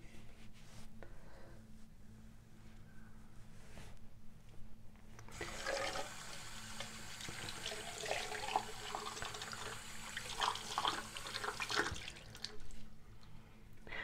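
Tap water runs and splashes steadily while a micro-peeling treatment is rinsed off the face during an evening skincare routine, with the flow starting partway in and continuing close by before easing near the end.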